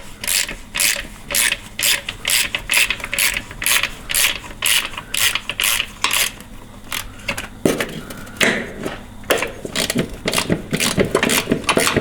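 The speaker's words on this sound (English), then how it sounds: "let's get our linkage off of here the rest of the way. This is a 9/16 socket that we are using." Ratchet clicking steadily on a 9/16 socket while removing transmission linkage from a 1992 Ford F250 with an E4OD transmission, close and loud, a long run of rapid ratcheting strokes with brief pauses.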